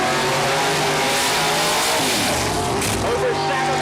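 A nitrous-fed Pro Modified drag racing car, Pontiac Grand Am type with close to 2,000 horsepower, roars hard down a dragway strip at full throttle, a loud sustained engine howl that shifts in pitch under crowd and announcer noise.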